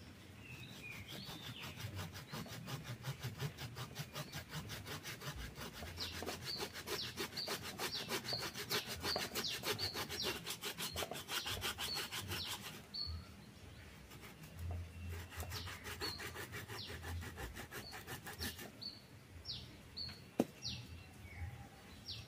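Branch being cut off a young bonsai tree with a saw or cutter: a steady run of close, rhythmic scraping strokes with a few sharp snips near the end, while birds chirp faintly in the background.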